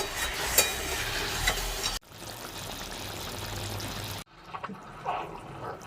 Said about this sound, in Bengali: এবারে খুব ভালো করে ফুটুক এক মিনিট ফুটলে পরে রসটা ভেতরে ঢুকে যাবে